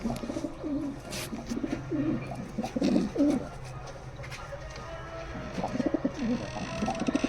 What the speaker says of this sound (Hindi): बताइए भाई कैसे लगे बबलू भाई के कबूतर